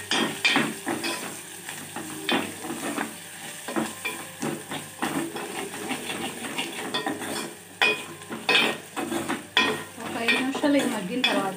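Chili powder is stirred into food frying in a pan, with steady sizzling and steam under repeated close scraping and clinking of a utensil against the pan, continuing throughout.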